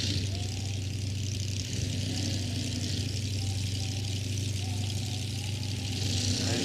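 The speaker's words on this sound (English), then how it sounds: "You can hear the revs building on the engines." Drag racing car engines at the Santa Pod start line during the 1989 World Finals sportsman classes, a steady heavy idle with revs building, continuous and loud with faint commentary speech underneath.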